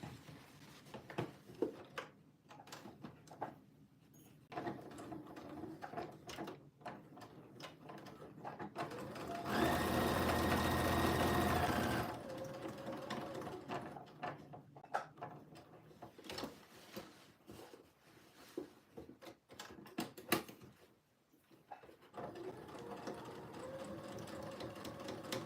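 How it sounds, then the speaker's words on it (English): A sewing machine pivots and stitches across jeans panels, one steady loud whir lasting a few seconds in the middle, with quiet talking before and after it. "So that's where I'm going to pivot and sew."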